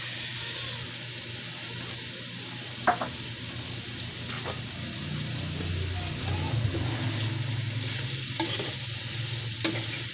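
String beans sautéed in a pan for ginataang gulay, a vegetable dish cooked in coconut milk, give a steady close sizzle with stirring scrapes and a few sharp clinks of the utensil, with no talking.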